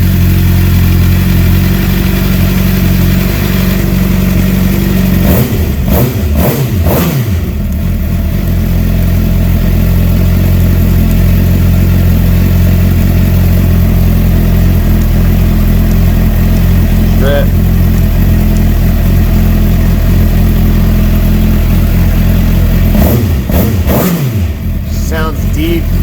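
A 2008 Suzuki GSX 600 R sport motorcycle with a Yoshimura exhaust idles with a deep, loud burble, blipped into sharp revs twice, the exhaust roaring up and dropping back each time.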